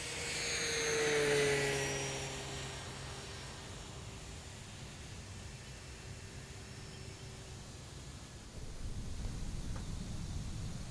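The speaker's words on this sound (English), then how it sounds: "Here's a full speed pass with a maximum performance climb." A Durafly Supermarine Spitfire Mk2a RC model warbird, an 1100mm EPO foam fighter, makes a full speed pass into a steep climb, its loud electric whine and prop buzz swelling near the start and then fading away over steady background wind noise.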